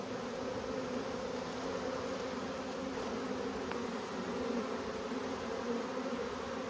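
A swarm of honeybees makes a steady, dense buzz that holds at an even level throughout, with no voices over it.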